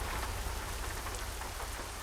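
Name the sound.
rain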